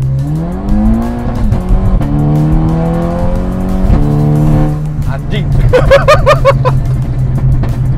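A car accelerating hard on a toll road with a manual gearbox, its engine climbing steadily in pitch through shifts, loud and close inside the cabin while people talk and exclaim.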